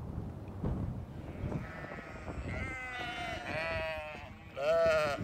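Sheep from a prize-winning flock bleat several times in a row, the wavering cries growing louder toward the end over a faint farmyard background.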